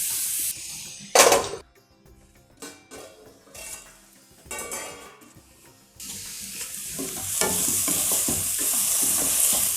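Carrots sautéing in a covered pan, with intermittent stirring scrapes and bursts of sizzle, brief pauses, then a steadier louder hiss toward the end.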